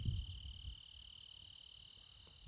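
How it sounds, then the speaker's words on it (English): Crickets chirping on a quiet homestead on a fine afternoon, a steady high, shrill trill that runs unbroken and fairly loud, with no voices over it. "You can hear the crickets going. Pretty loud actually today"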